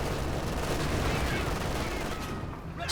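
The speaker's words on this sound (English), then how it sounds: "On MG42 holding the line against the Grenadiers." Sustained MG42 machine gun fire in Company of Heroes 2, a dense, continuous rattle of battle noise holding steady at close range for nearly three seconds, with faint voices mixed underneath.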